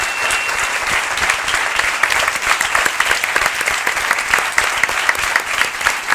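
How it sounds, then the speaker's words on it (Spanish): A live audience at a comedy talk show event applauds steadily and loudly for several seconds, a dense wash of clapping from many hands with no voices standing out. "Borja Coveaga, Diego San José, por favor, un aplauso para ellos."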